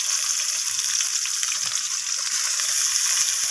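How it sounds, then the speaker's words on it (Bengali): Chopped onions fry in hot oil in a pan, giving a steady, close, continuous sizzle with a fine crackle that holds evenly throughout and no voices. "এরপর আমি এখানে দিয়ে দেবো কেটে রাখা পেঁয়াজগুলোকে।"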